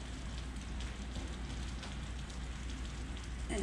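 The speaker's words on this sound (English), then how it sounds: "now we've got pouring rain" Pouring rain falls outdoors near a chicken area, making a steady, even hiss with no breaks. The sound is soft and continuous, and no one speaks.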